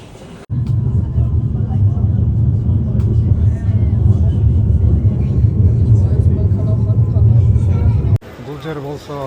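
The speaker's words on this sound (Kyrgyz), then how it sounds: "Мына автобусубуз келет атат." A bus near a railway station in Bavaria, Germany rumbles in loudly with a heavy, sustained engine drone that cuts off abruptly, leaving quieter street noise and faint voices.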